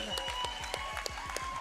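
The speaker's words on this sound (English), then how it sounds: "So huge applause for that." An audience applauding at a trampwall competition: a brief burst of steady, rhythmic hand clapping, fairly faint and close, with some crowd murmur underneath.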